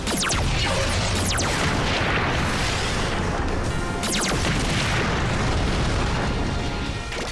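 Super Megaforce weapons firing in rapid succession, producing a dense, loud barrage of booms and crashing blasts with sharp whooshing bursts layered over continuous rumbling.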